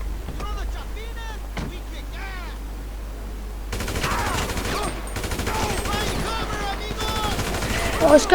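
Rapid gunfire in GTA V rattles in repeated bursts, growing louder and denser after a quieter opening, with a voice talking over parts of it.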